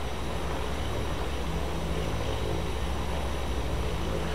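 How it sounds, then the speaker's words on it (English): A steady, loud jet engine roar from an AI airliner in an FSLabs Airbus A320 flight simulator, a constant broadband rumble and hiss that holds unchanged the whole time with no talk over it. "I hear an airplane."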